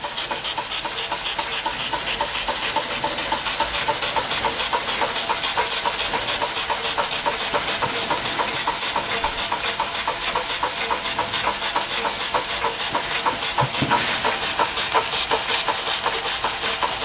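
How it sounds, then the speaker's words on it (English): An American Weeden No. 900 model steam engine runs under steam with a steady, fast chuffing hiss and rhythmic mechanical beat, continuous and close, with no talking. "So there you go, Weeden 900, running for the first time under steam"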